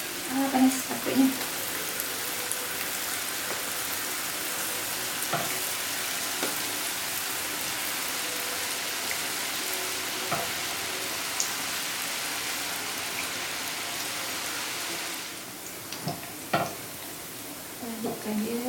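Steady hiss and crackle of small keria dough rings frying in hot oil, continuous throughout, with a few soft knocks and clatters of utensils.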